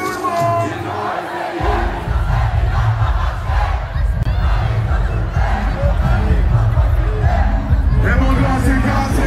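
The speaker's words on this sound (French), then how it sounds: "Applaudissez très fort, s'il vous plaît, pour les deux." A crowd at a rap clash battle night cheers and shouts loudly and continuously, a dense roar of voices with applause mixed in.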